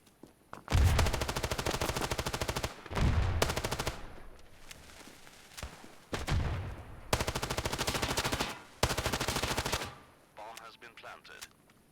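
MP7 submachine gun fire in Standoff 2, several loud rapid-fire bursts of a few seconds each, close and crisp, separated by short pauses with game ambience between.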